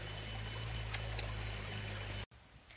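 Water fills from a pipe with a steady, close, pouring rush that stops abruptly near the end.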